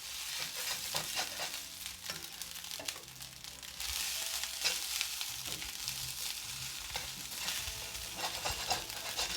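A spatula scrapes and stirs fried rice in a hot pan, with steady sizzling and repeated scraping strokes against the metal surface, close and alone.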